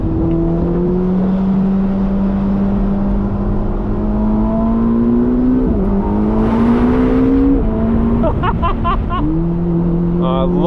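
A Ferrari SF90 Spider engine pulls hard under acceleration, its loud, rising tone dropping sharply at each of several paddle upshifts, heard close from inside the car.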